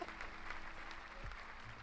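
Canned applause sound effect triggered through a Twitch chat integration, a steady wash of clapping that runs faint and even for about two seconds with no voices over it.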